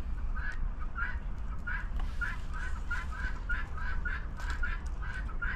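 Helmeted guinea fowl, several birds outdoors, call in a steady rhythmic series of harsh repeated notes, roughly two per second, over a constant background hiss.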